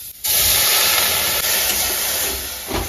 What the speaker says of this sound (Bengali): একটু আদা ফোড়ন দিয়ে দিল